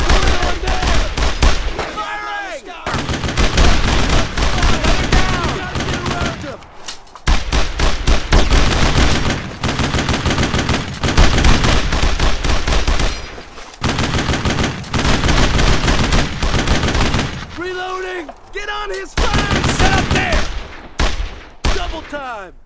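Heavy World War II gunfire in the shooter game Brothers in Arms: Road to Hill 30, dense rattling automatic bursts and rifle shots running almost nonstop and loud, with soldiers shouting over the battle throughout.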